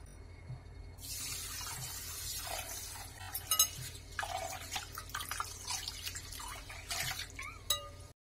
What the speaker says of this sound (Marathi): आपल्याला तांदूळ आता स्वच्छ धुवून घ्यायचा आहे।